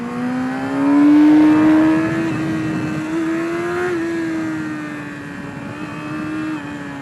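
A new motorcycle's engine revs hard in a steady, droning pitch that swells near the start and again around the middle, loud and close throughout with no talking.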